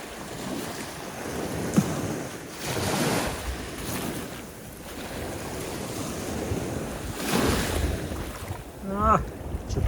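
Waves wash in and recede in slow surges on a narrow pebble beach in Greece, separated by gusts of wind buffeting the microphone, with a brief voice near the end.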